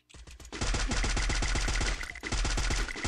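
Rapid automatic gunfire from the video game Free Fire comes as a dense, loud burst of evenly spaced shots after a few opening pops, with one brief break partway through.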